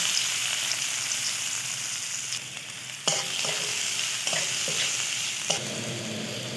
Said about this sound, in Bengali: এই তেলে আমি দিয়ে দেবো পেঁয়াজ কুচি।